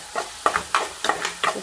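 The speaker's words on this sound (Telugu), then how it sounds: "సో ఇంకా ఇక్కడైతే ఉల్లిపాయలు తాలింపు పెడుతున్నా." Sliced onions frying in oil in a pan for a tempering: bursts of sizzling with stirring scrapes, about five close, regular pulses.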